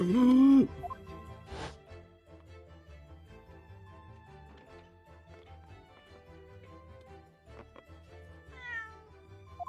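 A cat meows once, loud and close, at the start of a scene in The Great Ace Attorney video game. Soft background game music continues afterward.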